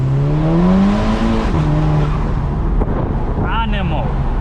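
A tuned Volkswagen Golf GTI Edition 30 with 417 bhp accelerates hard, its engine note climbing loudly through the gears up close, with a brief tire chirp near the end and someone talking over it.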